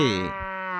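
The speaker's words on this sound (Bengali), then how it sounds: "গরু বাছুর দাঁড়িয়ে আছে" A cow gives one short, clear moo, close and fairly loud, rising then holding before trailing off.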